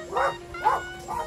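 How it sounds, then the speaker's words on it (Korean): A rural dog barks three times in quick succession, hoarse and husky, fairly close and moderately loud. "시골개들은 이렇게 목소리가 굵어서 와! 막 이러지 않고 약간 쉰 목소리로 짖지 않아요?"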